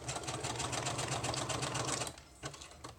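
Sewing machine stitching lace onto paper, a rapid steady mechanical chatter for about two seconds, then stopping, followed by a few quieter short bursts of stitching.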